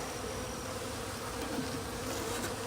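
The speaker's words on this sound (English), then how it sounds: "these bees are very docile because they're a swarm" A honey bee swarm buzzes steadily during a swarm removal, a dense, constant drone of many bees close by with no voices.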